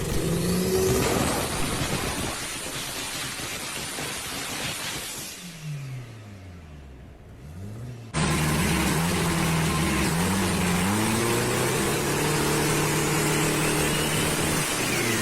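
Calvo Motorsports Dodge Viper, a roughly 2,000–3,000 horsepower build, roaring loudly on a dyno, with engine tones sweeping down to a brief lull before a hard, sustained full-power pull.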